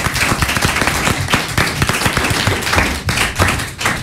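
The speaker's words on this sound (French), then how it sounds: "demande de l'applaudir bien fort et de l'encourager" A small studio audience at a French radio school claps for a performer named Pider. The clapping is uneven and sparse, with distinct individual hand claps and a few thuds rather than a dense roar.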